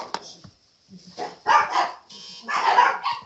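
Small dogs bark at home in a quick series of sharp yaps and yips, fairly close and loud, with short pauses between the bursts.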